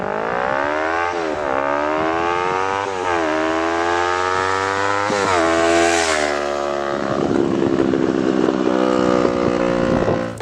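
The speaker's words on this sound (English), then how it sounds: "R3 should be able to go 60 a little bit faster than a stock model because it has an aftermarket lightweight exhaust and a tune on it" A 2015 Yamaha R3 sport bike fitted with an aftermarket lightweight exhaust and a tune accelerates hard, its engine note climbing through several gears with short dips at each upshift, loud and close, no talking.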